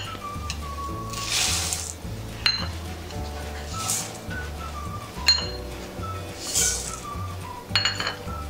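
Dry chana, moong and toor dal lentils being stirred together in a metal bowl, with steady clinking and rattling of grains and a utensil against the bowl, some louder clinks standing out over background music.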